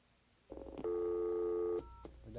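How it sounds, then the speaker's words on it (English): An old telephone dials out. A short burst of touch-tone beeps is followed by one long, loud steady tone, then a lower tone and faint room noise, heard close with no talking. "we dial 0, then the number, then we'll get a tone"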